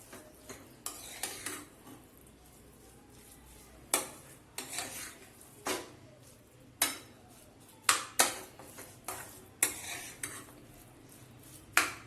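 Lemon rice is stirred in a pan with a metal spoon, giving repeated scraping clinks in an irregular rhythm, close and fairly soft, with no talk.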